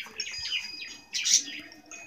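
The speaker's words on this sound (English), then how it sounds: "we have little birds. The little thing" Small birds chirp in quick, bright bursts, a few close tweets rising and falling with short pauses between them.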